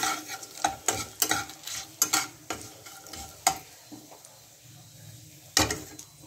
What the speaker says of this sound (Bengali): জিরে ফোড়নও দেওয়া যায়, কিন্তু কালো জিরে দিলে আলাদা টেস্ট হয়